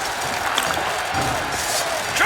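An arena crowd in Witcher 3 cheers and roars in a steady, dense wash of noise that holds at an even level throughout.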